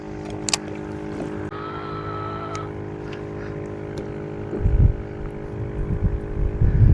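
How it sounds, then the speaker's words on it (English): A boat's electric trolling motor runs on a calm lake with a steady, faint whine and hum, joined by low rumbling water and hull knocks toward the end. "trolling motor's still going"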